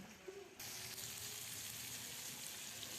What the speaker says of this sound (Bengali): আমি সিম ভাজি করতেছি